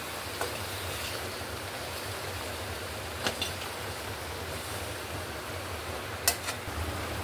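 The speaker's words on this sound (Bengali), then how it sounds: "বাইরে প্রচুর বৃষ্টি।" Heavy rain falling outside, a dense steady wash of broadband hiss with a few faint clicks, continuous and even with no talk.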